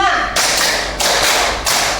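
Classroom students clap a five-beat pattern together: dense, close group claps land in about three quick rhythmic bursts, evenly spaced and loud, with no talking between them.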